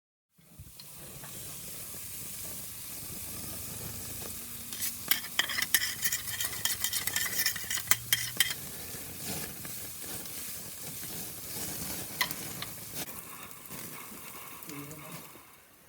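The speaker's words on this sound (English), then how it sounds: "We'll get this pan good and hot, and then we'll saute these up" Mushrooms sautéing in a hot pan with olive oil, a steady hiss and sizzle with a burst of louder crackling and stirring clatter midway, fairly quiet and close.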